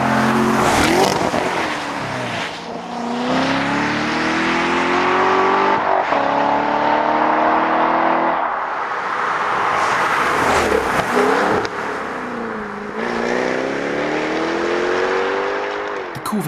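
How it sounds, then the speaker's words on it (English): Sports car engines, Chevrolet Corvette C7 Stingray and Jaguar F-Type among them, blip through a downshift and then pull hard under full throttle, revs rising and falling in loud close sweeps several times. "And finally, during a down change, followed by hard acceleration."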